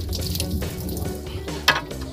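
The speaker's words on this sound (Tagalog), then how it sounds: "ina lang sa gripo siya nga maghugas kani flowing para dili magpundo" Tap water runs steadily into a sink while a printer ink waste pad from an Epson L3110 is rinsed under it, a continuous close splashing flow with one brief sharper splash near the end.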